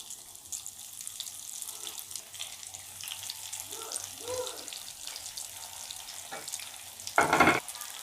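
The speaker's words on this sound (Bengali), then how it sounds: "এবার আমি পেঁয়াজগুলো দিয়ে দেব।" Onion rings frying in hot white oil over a medium flame, a continuous close sizzle with a brief louder burst of bubbling spatter near the end.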